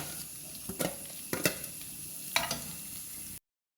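Grated coconut frying in oil for Kerala sambar, a soft steady sizzle broken by several sharp scraping stirs of a spoon against the pan.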